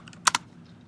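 A couple of quick keystrokes on a computer keyboard at a terminal prompt, two soft close clicks in a brief quiet moment.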